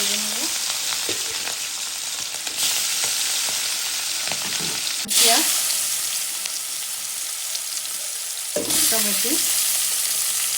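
Hilsa fish frying in oil in a pan, a loud continuous sizzle that jumps in intensity twice as pieces shift or are turned, with brief scraping clatters and no talking.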